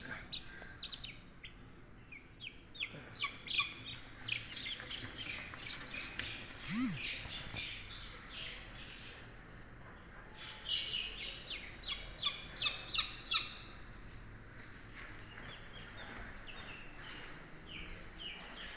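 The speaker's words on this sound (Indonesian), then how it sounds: "Ayam Brahma kita." Two-day-old Brahma chicks cheep in a brooder pen after moving from an incubator, giving a steady stream of high, thin peeps that build into denser bursts near the end, with occasional talk and handling noise underneath.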